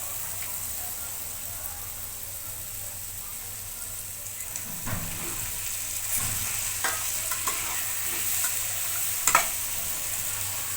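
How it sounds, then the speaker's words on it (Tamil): Potatoes with turmeric sizzle in a pan while being stirred, making a soft continuous fry hiss. Scattered scraping and knocking strikes of the spoon grow busier toward the end, close by and without speech. "நல்லா கிளறி விட்டுக்கலாம்."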